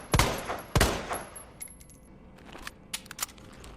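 Matilda handgun shots from the Resident Evil 2 Remake game: two loud, sharp reports close together near the start, followed by scattered softer clicks and clinks.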